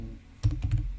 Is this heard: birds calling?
no